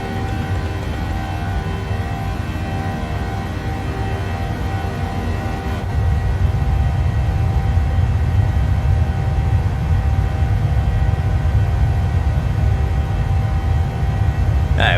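Boeing 737 jet engines in a PMDG flight simulator roar as a loud, steady low rumble that swells to a heavier drone about halfway through, with no talking.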